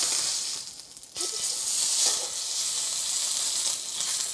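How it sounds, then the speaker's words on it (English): A pork roast searing in melted butter in a hot pan, a loud steady sizzle that dips briefly and then surges back as the meat hits the fat. "we're gonna melt another tablespoon of butter, and then we're gonna get this going. Okay, we're gonna sear about a minute per side."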